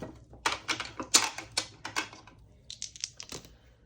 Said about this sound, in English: I'm also going to roll the dice